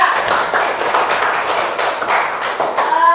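A class of schoolchildren clapping for a group, brisk steady applause from a room of pupils, loud and close, continuing throughout.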